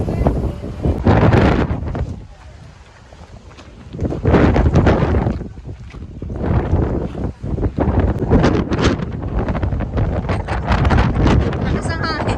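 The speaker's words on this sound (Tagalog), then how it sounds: "Lakas ang hangin." Strong gusts buffet the microphone in loud, roaring bursts that ease for a moment and return, with voices faintly under the wind, in Ilocos, Philippines.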